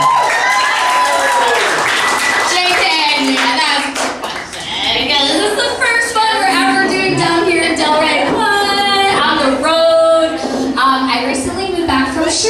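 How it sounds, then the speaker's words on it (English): An audience claps at a feminist happy hour comedy show, a steady wash of applause that runs throughout, mixed with voices and crowd noise. "clap it up if this is your first feminist happy hour"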